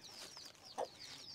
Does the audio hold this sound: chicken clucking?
yes